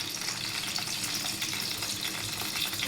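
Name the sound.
sliced vegetables deep frying in oil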